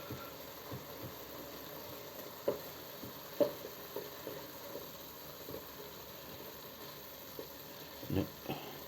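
Homemade bolognese meat cooks in a pan as its water evaporates, a faint continuous low sizzle broken by occasional soft clicks and scrapes from stirring.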